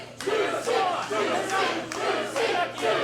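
A wrestling crowd at a live match roars and chants in loud, surging waves that swell and dip for the whole stretch.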